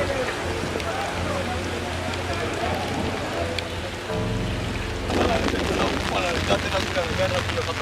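Rain falls steadily in Tanzania, a dense wash of patter with a low rumbling background, growing louder and busier toward the end; muffled voices seem to sit beneath it.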